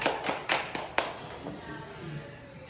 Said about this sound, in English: Let's give Karen a round of applause